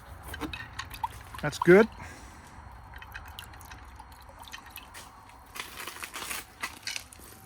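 Water splashes and trickles as rust cleaner is rinsed off a porcelain surface, with a short louder pour near the start and softer dribbling afterward while someone speaks briefly nearby.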